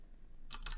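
A few quick keystrokes on a computer keyboard, two soft clicks close together after a quiet moment, with no talk over them.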